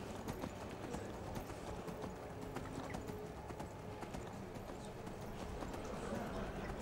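Horse hooves clip-clopping steadily in the Skyrim video game, a continuous fast rhythm of hoofbeats over rocky ground with no talking.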